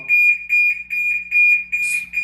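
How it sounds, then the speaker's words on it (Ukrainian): Ajax FireProtect 2 fire detector alarm sounds nearby, a loud, piercing electronic tone pulsing in rapid, evenly spaced beeps. "Так, значить, у нас подіяв датчик заодно"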